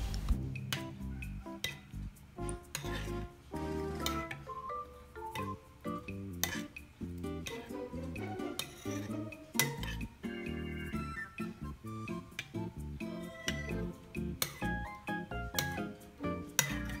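A spoon stirring keto chia chocolate porridge (champorado) sweetened with stevia in a bowl, making repeated close clinks and scrapes against the bowl in an uneven rhythm, with no talking.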